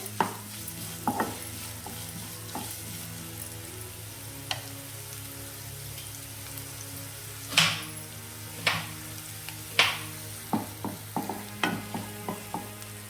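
Onions sautéing in hot oil in a pan sizzle with a soft, steady crackle, while sharp spatula scrapes and taps come at irregular intervals and grow more frequent toward the end.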